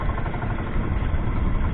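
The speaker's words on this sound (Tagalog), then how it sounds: "ayaw na kumandar rito ang makina ko" A small fishing boat's engine runs unevenly as it struggles to keep going, a loud, rough, low-pitched chugging drone close by that continues steadily with slight wavering and no speech.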